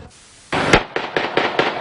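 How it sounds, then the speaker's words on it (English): Sharp rounds of gunfire crack out in a residential neighborhood during a standoff, first one loud shot, then a rapid rhythmic string of five or six reports at close range, each with a short echoing tail. "You're listening to just a handful of several hundred rounds of gunfire"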